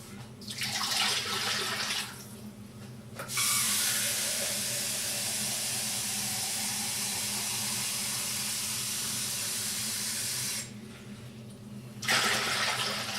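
Cold tap water runs in a steady, loud hissing stream into a bowl while kimchi is being made, the pour lasting several seconds with a quieter stretch at the start and a short break near the end.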